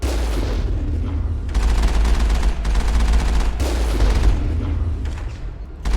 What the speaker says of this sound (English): Something's shooting at me.